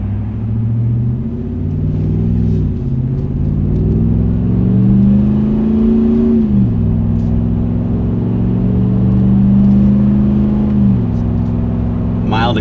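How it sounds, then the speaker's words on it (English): V8 engine of a 2019-or-later RAM pickup with an MBRP S5141409 exhaust muffler, accelerating mildly onto a highway in fourth gear; a loud, close, deep rumble rises in pitch, drops through gear shifts and climbs again. "Let's hear what a real V8 sounds like."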